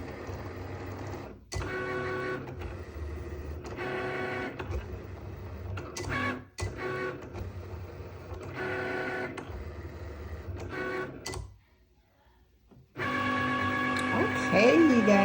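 A Cricut machine prints product labels for jars with a steady mechanical whir and rhythmic feed clicks, pausing briefly near the end before resuming, with a voice talking over parts of it.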